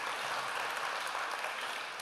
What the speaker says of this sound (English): Let's give them a little clap.